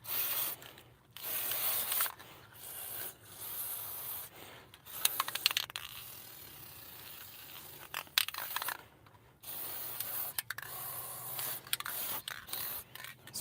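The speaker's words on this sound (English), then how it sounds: "Spraying this with Specialist Dry Lube to help try and keep dirt off the chain" Dry lube sprayed from an aerosol can onto the drive chain of a soybean planter row unit, a series of short hissing bursts with brief pauses, close by, with faint scraping and handling noises between sprays.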